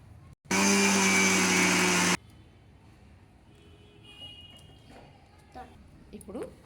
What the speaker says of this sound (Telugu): చక్కగా వేయించాం కదా మిక్సీ పడుతున్నామండి